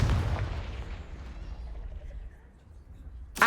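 A Confringo spell explosion in Hogwarts Legacy, a deep booming blast that rumbles and fades over a few seconds, followed by a sharp short burst at the end.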